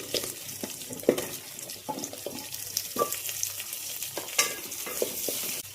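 Carrots and potatoes sautéing in oil in a pan, a steady soft sizzle broken by irregular scraping and clicking from stirring, close and moderately quiet.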